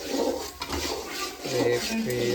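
A utensil scraping and clinking against a cooking pan while onion, ginger and green chili are stirred, continuous metallic rattling at close range with a voice speaking over it.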